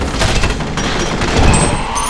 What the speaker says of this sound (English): I'm pretty sure I just unloaded quite a number of bullets into them.